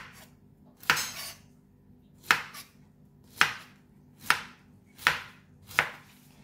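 A knife cuts through pineapple on a board in six distinct, evenly spaced chops, each a crisp, close thud with a short juicy crunch, separated by near silence.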